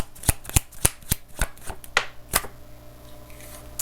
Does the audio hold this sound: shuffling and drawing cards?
yes